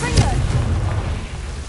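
A Confringo blasting spell in Hogwarts Legacy detonates with a short, deep boom near the start, then a rumbling tail that fades over the next second.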